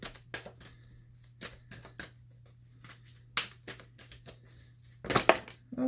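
Tarot cards being drawn and shuffled from a deck, a series of soft crisp card snaps and slides spaced irregularly, close and quiet, with a brief louder rustle near the end.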